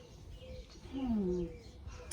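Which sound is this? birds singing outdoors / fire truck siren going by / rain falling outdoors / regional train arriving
birds singing outdoors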